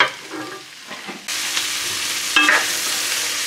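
Vegetables lightly roasting in a pan while being stirred. A quiet stretch gives way to a steady, fairly loud sizzle, with a brief clatter partway through.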